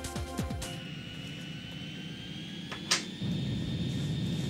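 Engine drone of a big, heavy plane in the flight game Ace Combat 2, a steady tone with a rising whine, a brief sharp burst near the middle and a louder rumble toward the end, with no talk.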